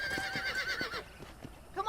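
A horse whinnies in the Western video game Red Dead Redemption: a shrill, wavering neigh up close at the start and a shorter one at the end, with low sounds and other game noise in between.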